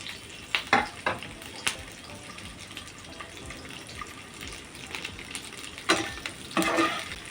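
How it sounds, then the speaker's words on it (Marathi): Capsicum and onion pieces sautéing in a pan for mushroom masala, a low steady sizzle with a few sharper scrapes and stirs of a spoon near the start and end. "शिमला मिरची घेतली आहे आणि कांदा घेतला आहे असं पीस करून ते परतून घ्यायचं आहे"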